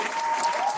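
A brief, dense burst of audience applause, loud and continuous, with a faint whistle-like tone running through it.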